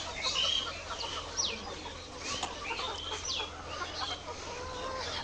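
Layer hens on a poultry farm cluck and squawk in a busy, overlapping chorus, several birds close by with short sharp calls over a constant barn hum.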